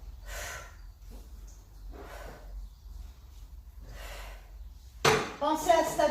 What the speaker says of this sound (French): Je souffle, j'inspire.